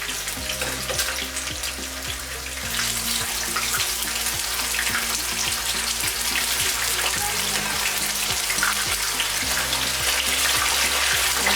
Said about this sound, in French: Ok, donc on va d'abord frire les poissons salés. Faites attention, ça saute.